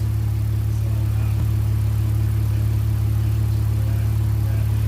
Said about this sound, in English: That's just the normal 6-cylinder noise